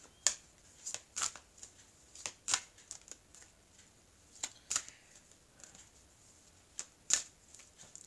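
An oracle card deck of love cards being shuffled, with crisp riffling snaps and soft slides in irregular bursts, close and fairly quiet, with no talking.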